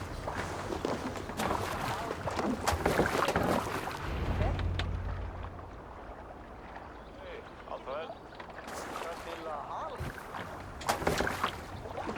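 Rowing a boat in Assassin's Creed Valhalla, with oars and water sloshing steadily under loud game music, voices and ambient wind throughout.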